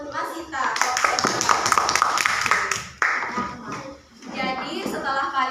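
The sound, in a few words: class clapping for a student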